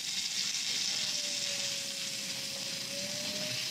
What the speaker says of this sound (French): On va juste faire un petit peu d'eau pour récupérer les sucres de cuisson.